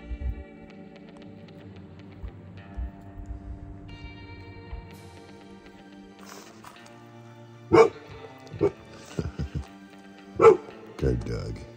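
A dog at a beach among rocks gives several sharp barks, loud and close, in two clusters late on, with a person talking before and around them.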